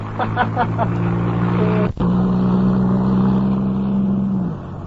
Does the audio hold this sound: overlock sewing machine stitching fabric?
no